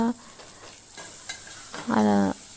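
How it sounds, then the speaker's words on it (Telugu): Green chillies and onion pieces frying in hot oil, a steady sizzle broken by stirring scrapes, with a brief tonal clank or voice-like hum near the end. "ఆ వేగిన తర్వాత పచ్చిమిర్చి ఉల్లిపాయ ముక్కలు కూడా వేసుకొని వేగనివ్వాలి."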